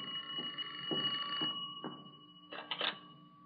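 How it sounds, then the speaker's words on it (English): An old telephone bell in a radio drama rings in several short, bright bursts, a clear metallic trill repeating at a steady pace over a soft background hum. "The telephone's ringing."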